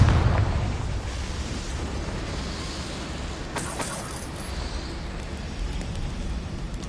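The Confringo spell goes off in the video game Hogwarts Legacy as a loud booming blast at the start, settling into a rumbling roar with crackling debris and scattered bursts that persist to the end.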